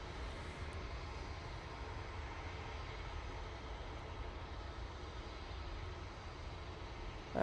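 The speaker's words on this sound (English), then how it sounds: "So this is the EasyJet A321 Neo going off to Tenerife now." An easyJet Airbus A321neo takes off from Manchester Airport bound for Tenerife, heard as a faint, steady, distant jet roar that holds evenly throughout.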